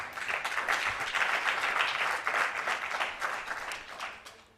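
A conference audience at a hydrogen masterclass breaks into applause, individual claps clearly audible in a brisk, uneven patter that swells and dips throughout without speech.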